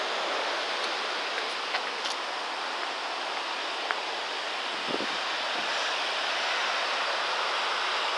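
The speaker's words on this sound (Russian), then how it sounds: "Горная река, она течет сверху и спускается в самое море." A cold mountain river in Sicily running down toward the sea, heard from a bridge as a steady, broadband rush of water, moderately loud and unbroken, with a few faint clicks and no voices.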